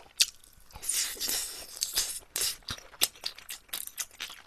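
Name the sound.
crunchy chewing of soy sauce marinated shrimp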